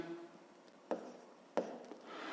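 Pen or chalk writing out a fifth-grade math subtraction exercise by hand, a few soft scratchy strokes with two sharper taps, quiet and close in a calm room with no talk.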